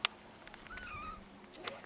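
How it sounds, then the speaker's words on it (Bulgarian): Cats in an old village neighborhood meow a few times, short mid-pitched cries at moderate distance amid quiet outdoor background. "Ето хора, може да видите котките на Гуне Махала."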